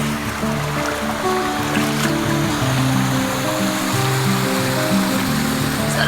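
Water flowing heavily along a farm path in a village, a steady, loud rushing wash that continues without a break and has no talking over it.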